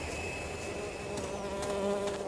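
A steady, thin, high-pitched whine from a mosquito in Carnivores Dinosaur Hunter Reborn, droning on without a break over a faint game background.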